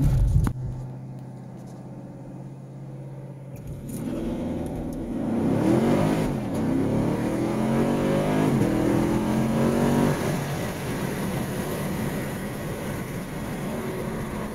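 A 2019 Chevrolet Camaro SS using launch control: a quiet idle, then the engine revs up loud and close and roars as the car accelerates, holding a strong, rising rumble to the end.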